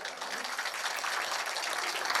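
Audience applause at an outdoor public meeting protesting a gas terminal, a dense, steady wash of many hands clapping together at close range, continuing without a break.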